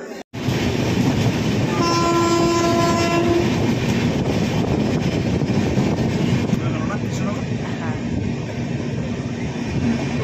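Sealdah–Jalpaiguri Road Humsafar Express running, with a loud, steady rumble of wheels and carriages throughout and a short horn blast near the start, heard from on board without talk.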